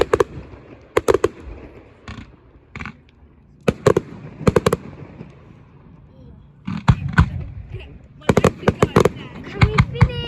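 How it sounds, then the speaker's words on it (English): Fireworks bursting in clustered volleys of loud sharp bangs and crackles at a public display on South Road, with quieter gaps between salvos and people talking in the background. "To South Road fireworks."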